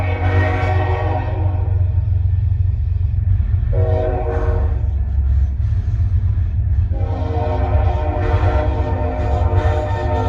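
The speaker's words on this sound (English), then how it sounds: "It's a freaking train convoy." A train rumbles past close by, a loud continuous roar with a horn sounding in long blasts over the rolling noise.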